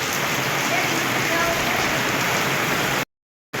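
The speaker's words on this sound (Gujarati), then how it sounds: "અત્યારે જો ધોધમાર ચાલુ થઈ ગયો છે" Heavy downpour pounding down in a steady, dense roar of rain on surfaces, loud and continuous before cutting off abruptly near the end.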